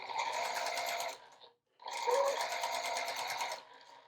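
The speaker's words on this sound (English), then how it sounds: "now we're just going to top stitch along the bottom" A sewing machine runs steadily while top stitching along the bottom edge of a fabric gift, two close, even bursts of stitching separated by a brief pause, with no voices over it.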